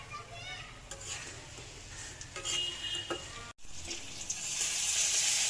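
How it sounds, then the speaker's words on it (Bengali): Small pieces of onion fry in a pan heated in an oven, giving a steady, fairly quiet sizzle that carries on throughout with stirring scrapes. A voice is heard faintly now and then, and the sizzle grows louder toward the end. "আর এখানে এই যে ছোট ছোট পেঁয়াজ ভাজি করছি"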